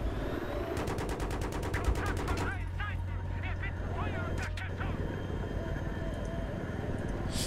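Rapid bursts of gunfire in the video game Battlefield 3, played in co-op, crackle amid noisy battle sounds, with talk mixed in.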